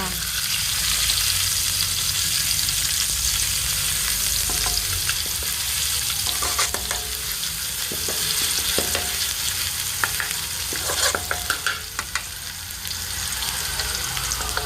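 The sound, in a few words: garlic and onion sautéing in a pan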